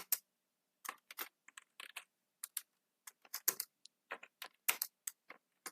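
Someone types HTML code on a computer keyboard, a close, clear run of irregular key clicks and clacks in quick clusters with brief pauses between, against near silence.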